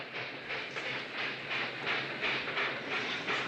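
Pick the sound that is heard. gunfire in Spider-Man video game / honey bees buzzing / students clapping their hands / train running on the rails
train running on the rails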